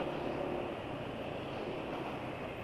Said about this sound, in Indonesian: Suara mesin sudah kasar ya.